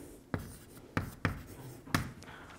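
Chalk or marker writing on a board during a mathematics lecture, heard as four distinct sharp taps and strokes at irregular spacing over a faint room hum, no speech.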